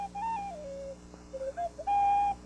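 A cartoon tin whistle plays a few short, bright, reedy notes, sliding between pitches in a jaunty phrase, then holds one longer tone; clear and alone, with no talking.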